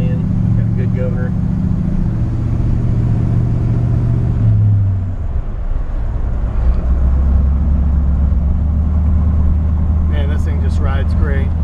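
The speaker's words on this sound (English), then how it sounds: "It's got a nice little rumble to it. It's got an RV cam in it." 1960 Ford F100 truck with an RV cam, a steady low engine rumble that shifts pitch midway as it changes gear, loud and close, with someone talking over it.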